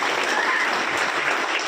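Loud, sustained applause from an audience of family members and downline team at a gathering, a dense continuous clatter of clapping hands with no talk over it.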